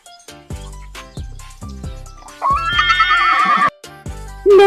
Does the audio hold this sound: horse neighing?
yes